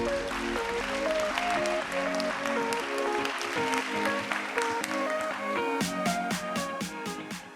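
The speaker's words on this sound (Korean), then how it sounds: "박수로 맞이해주십시오" Conference audience applauding as HL Holdings executive Song Ki-taek is welcomed onstage at a corporate summit, clapping under upbeat stage music, with crisp percussive hits toward the end.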